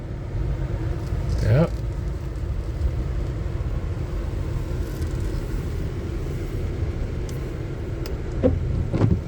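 Cars passing a busy street corner on a rainy day: a steady low traffic rumble, one vehicle sweeping past early on and another near the end, with faint voices in the background.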